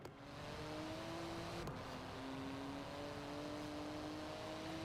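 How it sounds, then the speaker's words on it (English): A Porsche 911 GT2 crossing cobblestones in city traffic, its engine holding a steady, droning note under a constant rough, rumbling rattle of tyres over the stones. "That's the noise that would make as I was going over those fucking cobblestones"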